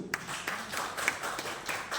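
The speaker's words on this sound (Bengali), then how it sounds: "তো হাততালি হচ্ছে ওই" Scattered applause from a crowd at a cricket player auction, a few bursts of hand clapping rising and falling over roughly two seconds, fairly faint and slightly distant with no one talking over it.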